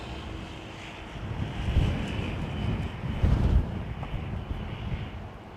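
An airliner landing at London Heathrow Airport at Christmas, a low, distant engine rumble with roaring swells partly masked by wind buffeting the microphone, no talk heard.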